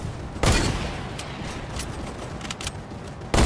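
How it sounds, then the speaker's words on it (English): AK rifle fire in Fortnite gameplay, a loud burst at the start followed by a scatter of fainter distant shots and crackles, with another sharp blast at the very end. "I just hit every shot with the AK just now"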